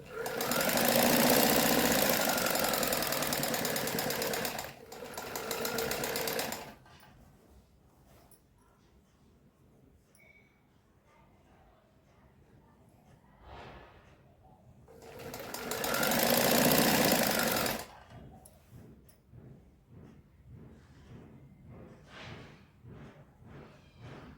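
A sewing machine stitches a strip onto a kurti in two loud, sustained runs of several seconds each, with quiet pauses for handling the fabric in between.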